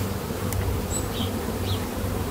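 Honeybees hum steadily around a brood frame being added to a hive, a dense close buzz that stays constant throughout with a few brief individual bees whining past.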